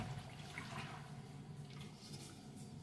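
Dried sorrel liquid being strained in a kitchen, a steady soft pouring, trickling water sound running continuously at low volume.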